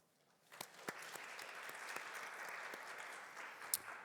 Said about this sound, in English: One more round of applause for Highmark Health.